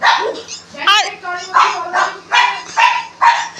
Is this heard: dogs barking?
yes